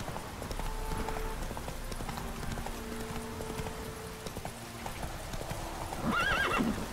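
A horse in The Witcher 3 runs with rapid, steady rhythmic hoofbeats over a soft bed of game music, ending in a short whinny, with no talking.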